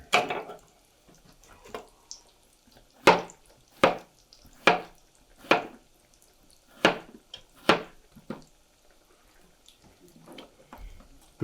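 A knife chops small diced onion and cucumber for raita on a board, giving about a dozen crisp, separate knocks at a slow, uneven pace. They are close and fairly quiet, with no talk over them.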